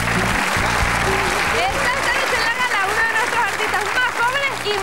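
Audience at a TV gala applauding a singer, steady loud clapping mixed with cheers and whistles from the crowd, sustained throughout.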